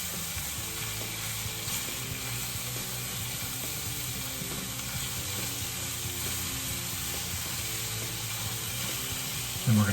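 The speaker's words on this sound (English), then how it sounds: "zucchini, squash, and eggplant. And we'll let that cook for a few minutes." Steady, even sizzling of zucchini, squash and eggplant cooking in a pan for chickpea penne pasta, a continuous close frying hiss with no break.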